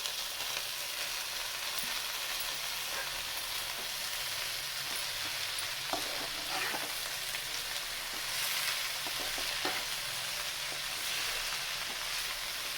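Onion, tomato and amaranth greens fry in a pan for a home-cooked palya. A steady, moderate hiss and sizzle runs throughout, with a few faint stirring clicks and no speech.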